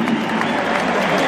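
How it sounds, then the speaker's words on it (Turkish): Dense, steady crowd applause fills a large basketball arena during a EuroLeague game between Anadolu Efes and CSKA Moscow, a continuous loud wash of clapping and crowd noise with no breaks. "Çok güçlü alkışlarla birlikte bir kez daha Çaylak için"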